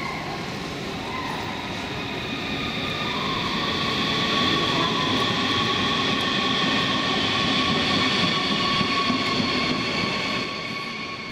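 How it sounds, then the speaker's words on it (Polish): A Siemens double-deck regional train runs on the R1 line between Magdeburg, Berlin and Frankfurt (Oder), giving a steady, loud rolling rumble with a constant whine that swells slightly midway through. "na ważnej regionalnej trasie kolejowej R1 Magdeburg, Berlin, Frankfurt nad Odrą kursuje 29 piętrowych pociągów Siemens"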